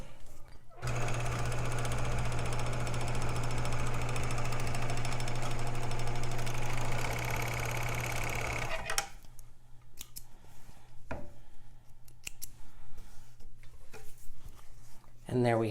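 An overlock sewing machine trims and stitches a fabric edge, its fast rattling whir running loud and continuous for about eight seconds, then stopping and giving way to soft handling clicks and a voice.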